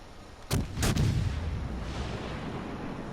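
Naval guns firing in the video game World of Warships Legends: two heavy booms in quick succession, followed by a long, low rumbling decay with no talk over it.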